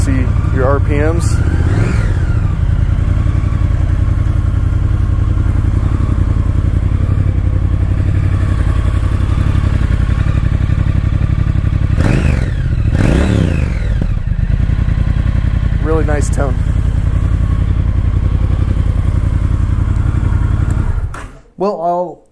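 A 2019 Triumph Speed Twin motorcycle idles loudly up close, rumbling steadily, with several sharp throttle blips rising and falling quickly, then the engine is cut near the end.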